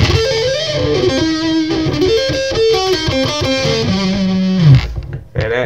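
Distorted electric guitar sweeps through a diminished scale, fast arpeggiated runs climbing and falling before ending on a held bent note, loud and alone with no talk.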